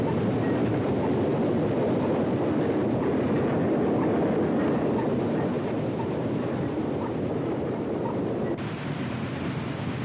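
Chesapeake and Ohio steam locomotive 2331 hauls an extra westbound train at Vinetta, Virginia in 1951, a loud continuous rumbling roar of the engine and train passing close by, steady throughout.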